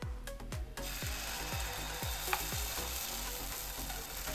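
Batter ladled onto a hot oiled pan for a quick breakfast dish, giving a steady, close sizzle throughout with a regular run of soft scraping strokes.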